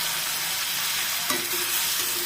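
Garlic and ginger paste sizzles in hot oil in a pan while being stirred, a steady close frying hiss with occasional scraping strokes of the spoon, no talking.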